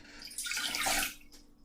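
A measured cup of water, about eight ounces, is poured into a cooking pot, giving a short splashing gush that swells and then trails off, close and fairly quiet.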